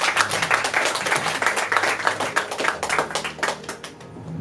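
An audience claps at a Hindi poetry recital, with loud, dense, irregular hand claps in a continuous burst that tapers slightly toward the end, and no talking over it.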